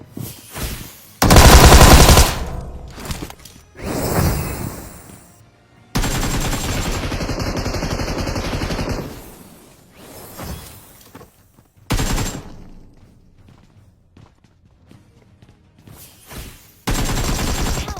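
Gunfire in a battle royale video game: loud, sharp bursts of shots come in several separate clusters, with quieter stretches between them and no talking.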